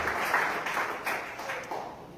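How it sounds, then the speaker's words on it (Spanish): A church congregation claps in a brief, even burst of applause, a dense patter of many hands at moderate loudness with no speech over it. "Dale un aplauso al Señor porque aquí es donde nos trajo Dios."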